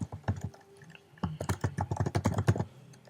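Password being typed on a computer keyboard, a quick run of light clustered keystrokes with a brief pause in the middle, close and fairly quiet with no one speaking.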